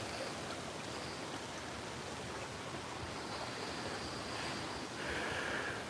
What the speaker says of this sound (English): this is again the water that came out of the building is now making its way down